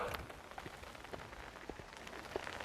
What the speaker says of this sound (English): the rain is starting to come in, I'm going to get under the tarp